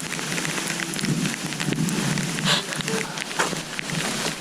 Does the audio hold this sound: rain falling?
yes